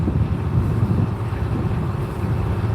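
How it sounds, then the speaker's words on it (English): Steady, loud wind roars and buffets around a sailboat anchored or sailing in Fiji, a dense low rumble of gusts over the microphone with no voices. "Unfortunately, this wind."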